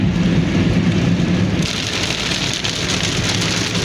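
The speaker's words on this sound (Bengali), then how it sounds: "মাঝে মধ্যে যদিও গ্যাপ ছিল, কিন্তু বৃষ্টি হচ্ছে।" Heavy rain drums steadily on a moving vehicle while driving past Bashundhara residential area toward 300 Feet road in Dhaka, a loud continuous wash with road rumble underneath.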